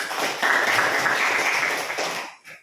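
Applause in a school classroom, a dense burst of students clapping together for about two seconds that fades out at the end.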